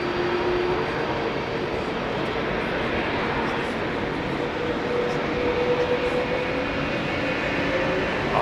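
Heavy airliner engines at Heathrow rumble steadily as the aircraft rolls up to the runway line, a continuous broadband roar with a faint tonal whine, loud and unbroken throughout.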